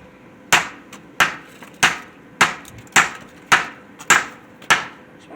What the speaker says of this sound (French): Prends la masse. Papa, plante-la dans l'autre